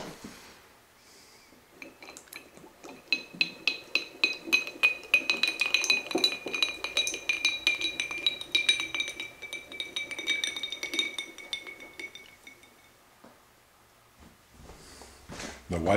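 A drinking glass holding vodka is struck and rings with a clear sustained tone, a run of chiming strikes that fades out after several seconds.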